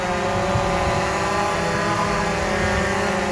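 Hubsan Zino quadcopter drone in flight, its propellers giving a steady loud buzzing whine with no breaks.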